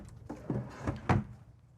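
A cabinet drawer in a 2026 Newmar Dutch Star 4081 motorhome slides and knocks shut in a few soft, quiet thumps and rattles, close by, with no one talking.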